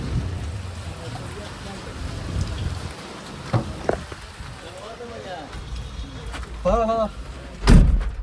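Steady patter of rain on a surface, with voices talking intermittently and a few knocks and a thump near the end.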